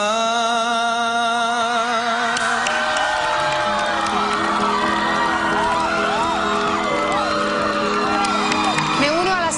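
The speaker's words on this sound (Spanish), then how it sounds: "Me uno a las chicas que te están aplaudiendo" A crowd of girls cheering and screaming at a band audition, loud, continuous whoops and shouts with high-pitched voices overlapping throughout.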